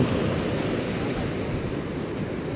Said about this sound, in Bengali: দেখো ঢেউ, দেখো ঢেউ।